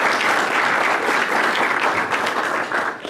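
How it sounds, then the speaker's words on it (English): A lecture audience breaks into sustained applause, a thick, even roar of many clapping hands at close range that holds steady and loud before easing slightly near the end, with no speech over it. "a round of applause for everybody who worked so hard today"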